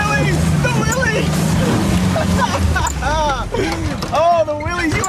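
A 1948 Willys CJ-2A Jeep in low range and second gear grinds up a steep off-road grade, its engine droning steadily underneath excited voices talking over it.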